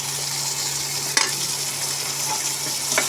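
Potatoes stir-frying in a pan with a small amount of spices, a steady hiss of sizzling oil broken by occasional scrapes and knocks of a spatula against the pan.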